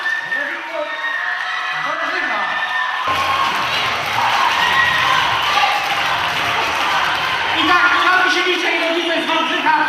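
A crowd at a local event in Poland cheers, whoops and applauds, children's shouts mixed in, the clapping and cheering swelling loud and continuous after the first few seconds, with voices calling over it throughout.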